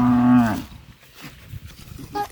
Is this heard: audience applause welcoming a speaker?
no